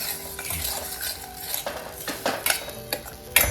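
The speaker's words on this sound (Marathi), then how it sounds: "तीन चार मिनटं चांगलं तेलामध्ये परतून घेऊ याच्यामध्ये चाल टमॅटोची पेस्ट टाकून" A spatula scrapes and clinks against a pan while masala with tomato paste sautés in oil for a restaurant-style Veg Maratha, with irregular close stirring knocks over a light sizzle and no talking.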